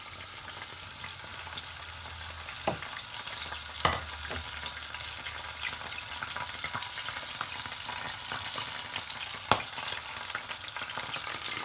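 Chopped green chili, coriander and ginger stirred into urad lentils in a pan, soft continuous sizzling and stirring with a few sharp clinks of the spoon, no talking.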